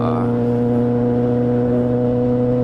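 A new-generation Kawasaki ZX10R sport bike, recently fallen over and damaged, runs on a shakedown with a steady, loud engine drone holding a constant note throughout, with no voices.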